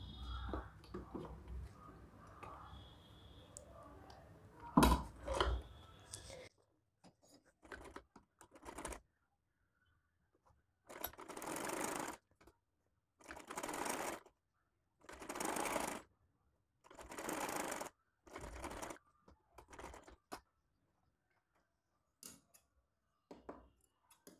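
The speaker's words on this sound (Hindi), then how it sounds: "इसको हम पलट लेंगे और इसके बाद हम नेक पे लगाएंगे सिलाई" Sewing machine stitching the neck of a frock, heard in short repeated bursts of rapid mechanical whirring separated by pauses, close and fairly loud, after a stretch of quieter handling noise with no talk.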